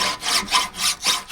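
A hand file scraping rust from the bearing face of a commercial fishing trailer's axle, four quick rhythmic rasping strokes, close and loud.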